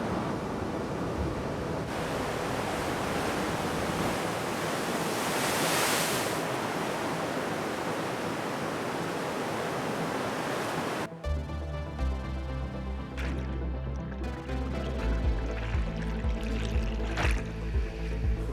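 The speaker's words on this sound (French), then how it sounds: "Sur cette vague qui s'écrase sur la roche à fleur d'eau, l'erreur peut se payer cash." Powerful, thick, fast ocean waves at the El Fronton surf break pound a shallow rock reef just below the water, a steady roaring wash of surf that gives way to music partway through.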